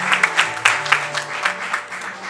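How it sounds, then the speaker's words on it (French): Congregation at a Lutheran evangelical church reconciliation service in Côte d'Ivoire claps in rhythmic bursts, a lively close applause with irregular sharp peaks. "acclamez le Seigneur Jésus."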